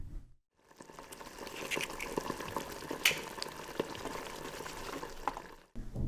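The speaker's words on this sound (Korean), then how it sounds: "보글보글 끓는 소리인 것 같죠?" Stew bubbling and simmering in a pot close by, a steady crackling boil with scattered pops and gurgles, heard alone without talk.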